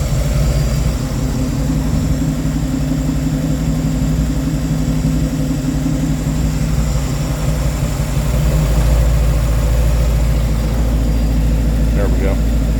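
A 1958 Ford F100 engine running steadily after being cranked, a loud low rumbling drone that swells slightly near the end, with a voice talking over it.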